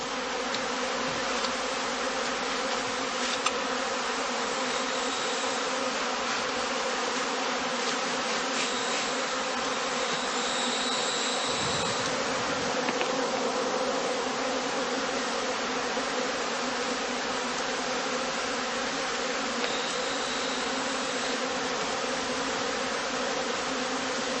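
Honeybees buzzing around traditional straw skep hives on open heathland, a dense continuous hum of many insects, steady and fairly loud throughout with no voices.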